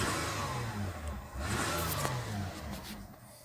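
A 1994 Toyota Camry 3VZFE V6 engine runs steadily after a head gasket repair, with a continuous low hum and a brief rise in revs midway, heard close up with no talking.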